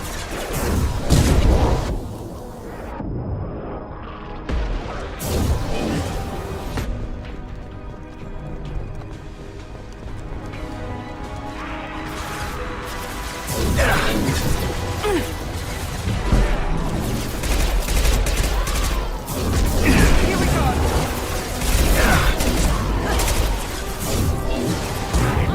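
Gunfire in Mass Effect 2, with bursts of shots, crashes and booms mixed into loud game music and effects throughout a long stretch of combat.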